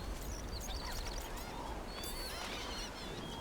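Squawking birds in Dragon Age: The Veilguard, a busy flurry of overlapping high calls and quacking chatter, fairly faint and continuous over a noisy background.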